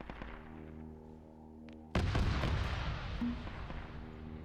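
Heavy bolter firing in a Warhammer video game: a sudden burst of loud gunfire erupts midway, rattling and booming over a low droning hum before trailing off into scattered shots.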